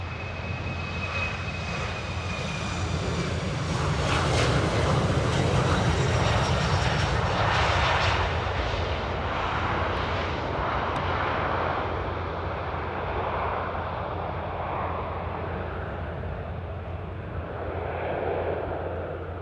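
A small airliner in an older color scheme rolls down the Polderbaan runway at Amsterdam Airport on a hot summer day, its engines giving a steady, loud broadband roar that swells in the middle and holds throughout.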